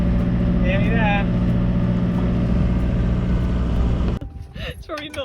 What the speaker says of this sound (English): eventually we did put the engine on and motored round the corner.